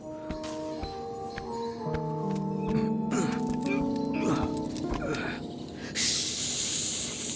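A drawn-out breathy hiss, made by a voice imitating a snake, bursts in loud and close after a stretch of music and background noise.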